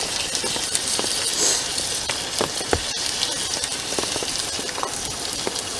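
Food sizzles and crackles steadily in a pan at a campsite in light rain, a busy hiss punctuated by sharp pops and spits, close by and with no talking.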